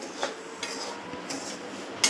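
Salt being stirred and heated in a pan with a ladle while roasting peanuts: a few scattered metallic scrapes and clinks over a soft gritty rustle, no voices.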